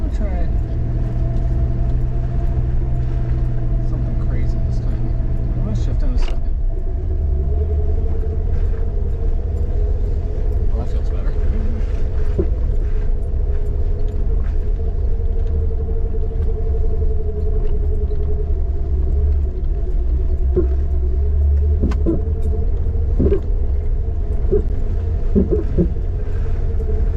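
Jeep TJ engine rumbling steadily in second gear on an off-road trail, a loud continuous low drone with rattles and jolts from bouncing over terrain, with speech heard over it.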